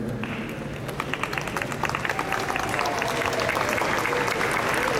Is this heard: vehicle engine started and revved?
no